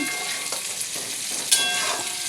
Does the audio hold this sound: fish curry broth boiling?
yes